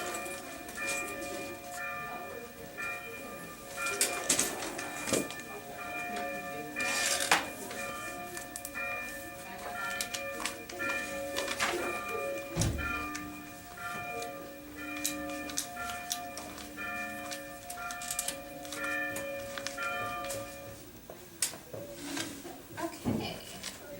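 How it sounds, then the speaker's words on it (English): A church bell tolls with steady, sustained ringing strokes that hang over the scene at moderate loudness, mixed with occasional clicks and knocks nearby; no clear talk. "wait for the bell to pass"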